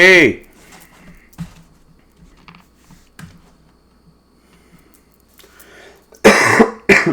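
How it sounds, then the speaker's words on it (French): A person coughs, with one close, harsh cough at the start and another burst of coughing near the end, separated by a quiet stretch with faint clicks and rustling. "Pardonnez-moi pour la toux."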